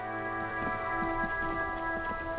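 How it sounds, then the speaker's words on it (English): Rain in the video game Disco Elysium falls in a steady, close patter of drops, with sustained musical tones droning underneath and no voices. "The rain's only barely just started."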